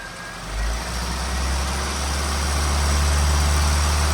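A Classic Mini with a 998 engine runs steadily at about 2000 rpm during carburetor tuning, a close, continuous low engine drone that rises slightly early on, then holds.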